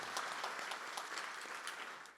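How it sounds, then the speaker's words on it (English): An audience at an evening awards celebration in Philadelphia gives a short round of applause, a soft and fairly distant patter of many hands that fades toward the end. "Let's also give a round of applause for the Fitler Club and all the Fitler staff here"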